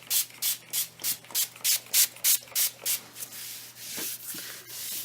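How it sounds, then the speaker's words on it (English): A spray bottle of distilled water fires about a dozen quick, evenly spaced hissing bursts close by onto legs before waxing, followed by softer rubbing sounds. "Put a little bit of distilled water first on a wipe. Spray the legs."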